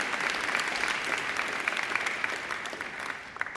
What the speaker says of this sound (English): So I think Angela deserves another great round of applause.